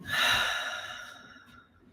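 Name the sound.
person breathing out slowly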